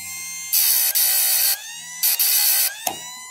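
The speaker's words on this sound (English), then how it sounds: "chainsaw blade sharpener." A Chicago Tool chainsaw blade sharpener grinds chainsaw teeth in loud, high, shrill bursts, several sustained passes lasting about a second each with brief pauses between them and a short sharp contact at the end.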